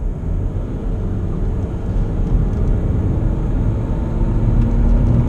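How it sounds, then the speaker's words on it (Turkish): An Opel Astra J sedan with a 1.6 CDTI 136 hp diesel and six-speed automatic pulls hard past 3000 rpm, its engine holding a steady, loud, low droning rumble that swells slightly toward the end, with no voices. "Bakın gazı bir tık fazla bastığımda daha dip gaz yapmıyorum. Araç hemen 3000 devrin üstüne çıkıyor"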